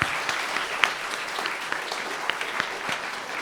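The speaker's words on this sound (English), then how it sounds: "So please, a round of applause to all of our family and friends." Audience applause at the end of a concert at the Forte Festival 2024, a steady dense patter of many hands clapping at moderate level, with a few sharper claps standing out.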